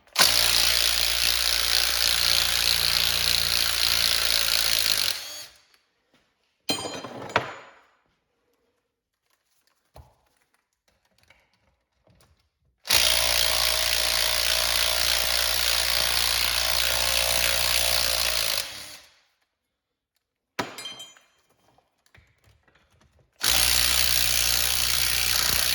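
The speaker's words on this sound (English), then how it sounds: "we'll start with getting this tail housing off" Bolts being removed from the tail housing of a 4R75W automatic transmission during teardown, with long stretches of loud, steady tool whirring broken by quiet gaps and a few short clicks and clanks.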